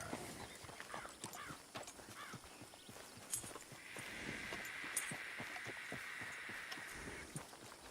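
Hooves clip-clop at an even walking pace as a horse plods across sandy ranch ground in a roleplay video game, steady and fairly quiet, with a soft whine of wind rising partway through.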